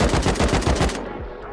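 A quick string of loud, close gunshots from the survival game Rust, about eight rapid shots in rhythm before the firing stops and a brief echo trails off.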